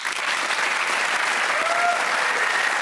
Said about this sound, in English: Big round of applause for Matt.